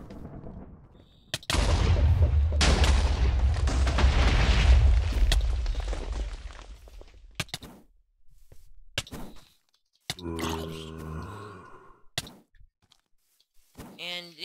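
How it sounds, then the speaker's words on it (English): A TNT block exploding in the Minecraft video game makes a loud, booming rumble that swells and lingers for several seconds before fading, after which a person talks over quieter game sounds. "I'm gonna show you the TNT one last time."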